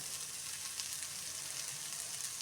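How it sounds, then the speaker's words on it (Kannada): Chopped onions frying in a pan for mutton sambar give a steady, dense sizzle that holds evenly throughout, close and continuous with no talking. "2 ಈರುಳ್ಳಿನ ನಾವು ಸ್ವಲ್ಪ ಫ್ರೈ ಮಾಡ್ಕೊಳ್ಳೋಣ"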